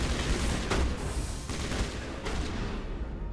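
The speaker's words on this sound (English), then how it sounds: "Who's firing?" Bursts of gunfire in the video game Mass Effect, several sharp volleys spaced about every three-quarters of a second over a constant rumbling background, fairly distant.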